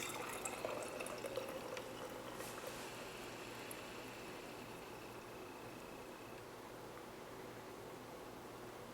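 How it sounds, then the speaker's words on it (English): Brewed Teavana Youthberry Wild Orange Blossom tea draining through a sieve into a glass, a steady soft trickle and hiss of liquid that holds evenly throughout at a quiet level. "all the tea is going to drain out the bottom through a sieve, which will catch all the little loose bits"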